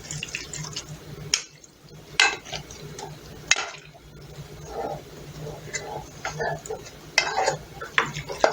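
Macaroni is stirred into cheese sauce in a slow cooker, with a spoon scraping and clacking against the pot in irregular bursts amid soft, wet squelching, close and moderately loud.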